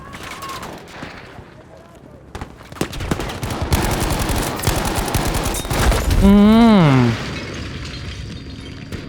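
Rapid bursts of Battlefield V gunfire build into a loud explosion with a rising whine, with a voice talking briefly over the chaos.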